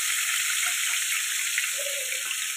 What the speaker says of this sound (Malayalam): നന്നായി നമ്മളത് ലോ ഫ്ലെയിമിൽ വെച്ചിട്ട് പൊരിച്ചെടുക്കുകയാണ് ചെയ്യേണ്ടത്.